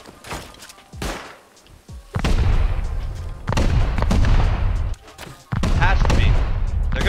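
Loud, sustained bursts of automatic gunfire in the video game Rust during a base raid, several long volleys broken by brief gaps, with players' voices calling out faintly underneath.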